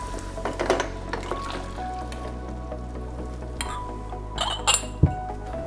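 Glass canning jars and metal lids clink and knock together now and then on a kitchen counter while lemon marmalade is being made and canned, light close clatters over a low steady hum, one sharper knock near the end.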